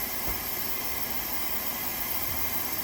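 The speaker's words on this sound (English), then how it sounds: "I don't know why this pot is steaming like that. It shouldn't be steaming still. A lot of steam." Continuous broadband hissing of steam venting from a pressure canner pot while canning pinto beans, steady and fairly loud with no pauses.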